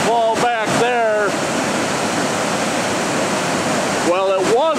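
Heavy, steady rush of the big Foster Falls waterfall in flood, loud and close, with a person speaking briefly at the start and again near the end over the constant roar.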